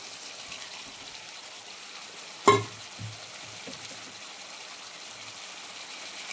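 Fried garlic leaves go into a chicken kosha, bringing a single sharp clack followed by a low steady sizzle that continues throughout.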